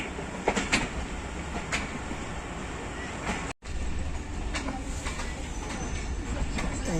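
The Jaffar Express, running from Quetta to Peshawar, rumbles past close by at Sarai Alamgir station with a continuous roar and rhythmic clatter, broken by one brief dropout near the middle.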